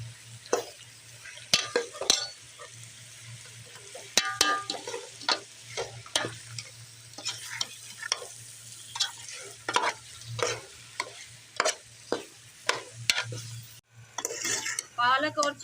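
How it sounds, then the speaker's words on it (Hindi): Chicken and spinach are stir-fried in a pot for chicken palak, with a spoon scraping and clinking against the metal in a steady repeated rhythm over a soft, continuous sizzle. "अब हम इसमें पालक डाल के भुनाई करेंगे।"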